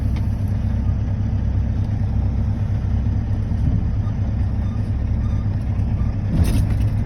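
A truck's diesel engine runs at a steady, low idle, a continuous close rumble as the truck backs up to hook up double trailers. No talking, and there is a brief higher clatter near the end.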